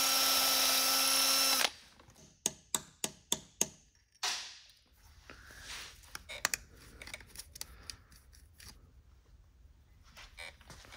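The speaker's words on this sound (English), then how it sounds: "the only thing left to do at this point is to get back to drilling." A loud drill whines steadily boring through a stainless steel bolt, then stops, followed by a series of sharp metallic clicks and scattered tapping and rattling.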